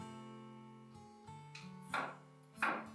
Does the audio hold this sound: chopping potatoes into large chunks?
yes